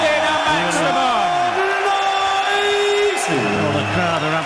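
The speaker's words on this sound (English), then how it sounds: "the crowd are absolutely loving this now" Loud darts crowd in Hamburg at the European Darts Matchplay cheering a maximum, sustained chanting and whooping voices filling the arena without a break, a singing, rising and falling mass of sound.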